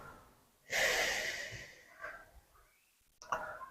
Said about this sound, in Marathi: आता डाव्या नागपुडीने श्वास सोडणार आहोत